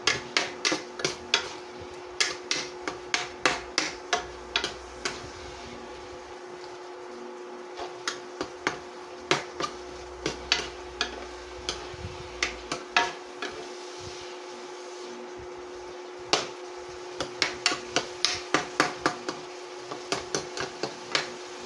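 Spatula scraping and tapping against a pan while garlic and onion are stirred together, a run of sharp rhythmic clicks in bursts with short pauses, close and fairly loud throughout.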